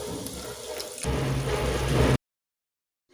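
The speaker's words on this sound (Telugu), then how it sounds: "నెక్స్ట్ ఇందులో కొద్దిగా వాటర్ యాడ్ చేసుకోండి." Water pours steadily into a pan of broad beans curry for about two seconds, rising into a fuller splash before cutting off into silence.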